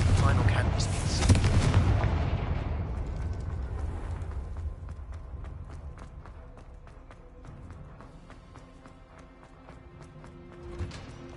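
Confringo explosive spell going off in Hogwarts Legacy: a loud, deep booming blast right at the start that rumbles and slowly decays over several seconds, followed by scattered faint clicks.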